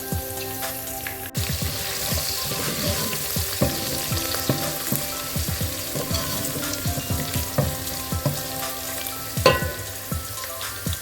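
Chicken sautés with tomato in a pan for a Kenyan kienyeji chicken dish, a loud, dense crackling sizzle with frequent spattering pops and occasional stirring scrapes throughout.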